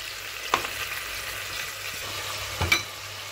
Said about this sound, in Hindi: प्याज हल्का सा सौते करें और इसके अंदर टमाटर डाल दें